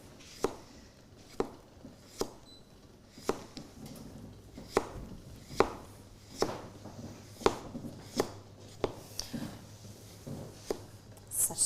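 Knife slicing thinly on a cutting board, likely for homemade bread rolls, makes a steady series of crisp, evenly spaced chops and taps, close and fairly quiet, with no talking.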